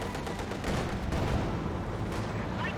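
Half-track gunfire in the real-time strategy game Company of Heroes 2, a continuous dense rattle of rapid shots and rumbling battle noise, loud and sustained across the whole moment.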